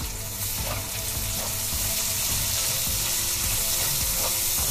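Curry leaves, garlic and ginger fry in hot oil for a fish pickle, giving a steady, close sizzle with occasional soft stirring sounds and no talking.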